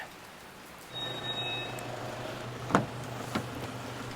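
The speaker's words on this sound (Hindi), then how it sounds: "भाई बाहर हो रही है बारिश" Steady rain falls outside a hostel in Brunei, a soft continuous hiss with a couple of louder drip or splash hits near the end, no voices.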